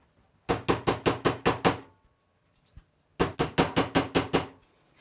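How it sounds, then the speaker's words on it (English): Two bursts of rapid metallic hammer strikes flattening and texturing metal wire for earrings, about seven blows each, separated by a short pause with a lighter tap; close and sharp. "I'm gonna hammer these out."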